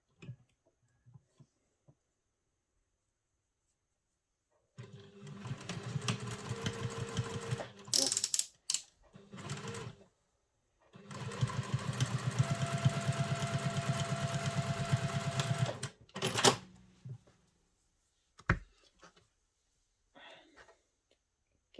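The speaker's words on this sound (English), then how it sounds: "Taking your binding, we're going to sew the binding on." A sewing machine stitches binding onto a travel satchel in two long runs of rapid mechanical whirring, separated by short pauses and clicks, with quiet stops before and after.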